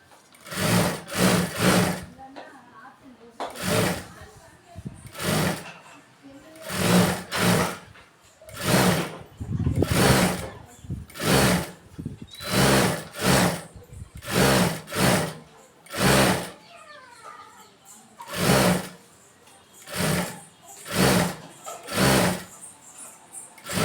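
A sewing machine stitches a cross piece onto a neckline in repeated short bursts, each run of whirring needle lasting about a second with brief pauses between, close and clear, with no talk.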